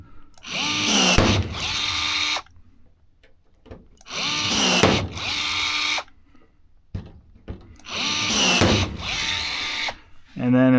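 A rivet gun sets rivets in aircraft wing skins in three loud bursts of rapid pneumatic hammering, each lasting about two seconds and separated by quiet pauses, close up in a workshop.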